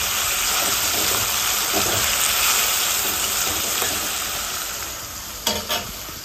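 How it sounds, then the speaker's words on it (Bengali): Chowmein frying and sizzling in a pan in a home kitchen, with a steady loud hiss and scraping stirs throughout, ending in a couple of sharper clatters near the end. "তো দাঁড়াও নাড়িয়ে নি।"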